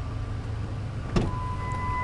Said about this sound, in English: Take a look at this back glass that comes down, so does the other side.